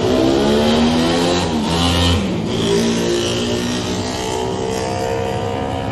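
A Team Gimbert Racing Honda superbike at a classic road race start, its engine revving hard and climbing through gears as it accelerates away, loud and close at first, then fading slightly.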